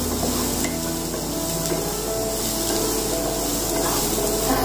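Onions cook in a pan with a soft, steady sizzle and occasional light stirring scrapes, close and continuous with no talk.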